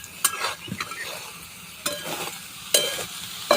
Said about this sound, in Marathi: असं ढवळत राहायचं आहे मिक्स करत राहायचं आहे